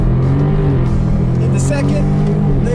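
Dodge Challenger engine roaring loud and continuous as it accelerates hard after a launch, with rising engine tones that break and restart at the gear shifts, heard from inside the car.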